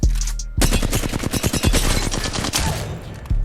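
Rapid bursts of hip-fire gunshots in Apex Legends, a dense stream of loud, close automatic shots after a brief lead-in, with no talking.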